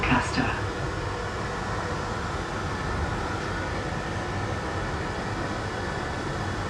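An LNER passenger train nearing Doncaster, heard from inside the carriage as a steady, muffled rumble and hiss of running on the rails, constant in level with a brief brighter sound at the very start.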